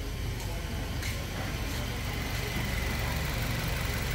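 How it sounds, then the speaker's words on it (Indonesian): A 2023 Suzuki Jimny engine idles smoothly around 700 RPM, a steady, low, faint hum with a light ticking texture, heard up close and unchanging throughout. "Mesin jadi super halus. RPM hanya 700-an."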